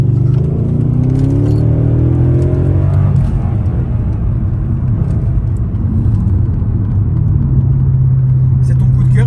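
A V8 car engine running strong, a deep steady rumble with rising revs early on, then settling into a loud idle drone.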